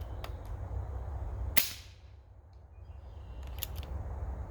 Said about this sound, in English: let's take 3 shots here and see if the sound signature changed